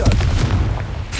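A deep booming burst from an explosive spell in a Harry Potter video game, loud and close, with rumbling combat noise and a casting voice over it.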